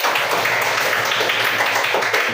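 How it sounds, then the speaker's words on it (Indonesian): Applause from a class of students in an Indonesian classroom lesson, a steady burst of clapping filling the short moment, close and fairly loud. "Tepuk tangan kita semua."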